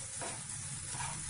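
Mango rice paste sautéing in oil in a pan, a soft steady sizzle with a faint stirring texture, quiet and close with no voices.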